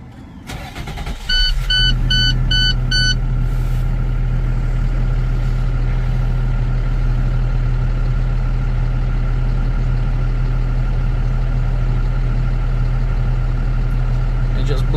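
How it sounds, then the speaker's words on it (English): A Cummins ISB diesel in an International box truck cranks briefly, fires up and settles into a steady, loud idle with a constant low drone, close by. "I'm gonna start the engine and"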